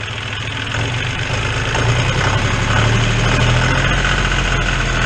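A John Deere farm tractor engine idles close by, a steady low rumble with slight vibration that holds for about five seconds and swells a little midway as the running evens out.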